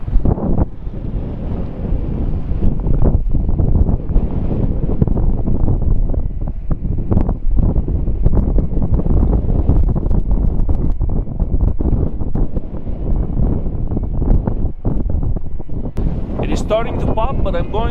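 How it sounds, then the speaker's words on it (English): Strong wind on a mountain top buffets the microphone in heavy, continuous low roaring gusts, loud and close throughout. "it's super windy up here."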